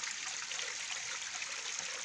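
Continuous soft rush of water flowing over rocks in the cascades of a waterfall stream, even and unbroken, heard from a short distance with no talking.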